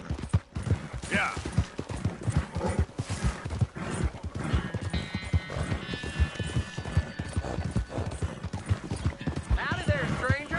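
Rapid hoofbeats of a galloping horse in the video game Red Dead pound steadily under a voice, with a whinny near the end.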